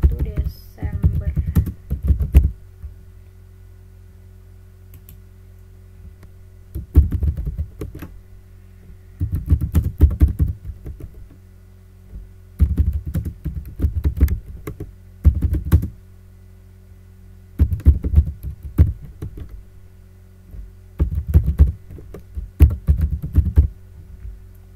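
Typing on a computer keyboard during an accounting software exercise, entering a chart of accounts: bursts of rapid, close key clicks in roughly half a dozen runs separated by pauses, over a steady low hum.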